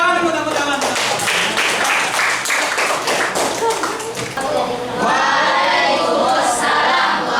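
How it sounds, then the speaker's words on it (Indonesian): A class of students in an Indonesian school lesson bursts into brisk applause, many hands clapping rapidly for several seconds, then the clapping thins out as a voice starts speaking. "ya tepuk tangan"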